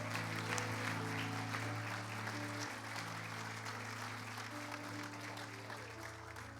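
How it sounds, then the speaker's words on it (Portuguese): Applause from a congregation during a men's church service, faint sustained clapping over steady sustained tones of background music. "Vamos dar uma salva de palmas, louvar a Deus"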